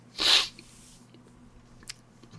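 A single loud sneeze bursts out near the start, close to the listener, during a tabletop dice role-playing session, leaving a quiet room hum with faint small noises afterward.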